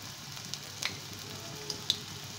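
Spinach pakoda batter frying in hot oil over a medium flame, a steady soft sizzle with a few faint pops and clicks, quiet and close.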